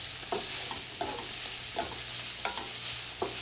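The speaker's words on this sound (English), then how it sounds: "Once that fat's rendered and the bacon looks like it's getting crispy" Bacon frying and sizzling in a pan as the fat renders and it turns crispy, a steady close sizzle broken by several scraping stirs from a utensil.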